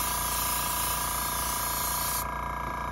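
A $100 eBay airbrush starter kit lays a second coat of cheap Walmart paint, giving a steady, close hiss of spray that runs unbroken and then thins slightly near the end.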